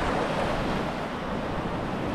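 Winter sea waves wash onto a Greek shoreline in cold, blowing wind, a constant broadband roar of surf mixed with wind buffeting the microphone, steady and loud throughout with no voices.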